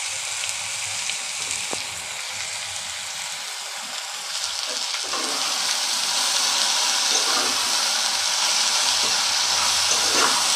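Taro (ghot kochu) bhaji frying in a pan with salt and turmeric, a soft steady sizzle that grows a little louder partway through, with occasional stirring scrapes.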